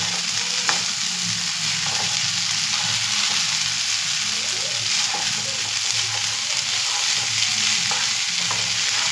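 Vegetable hakka noodles are stir-fried on a small crowded pan, giving a loud continuous sizzle with steady scraping and tossing close by.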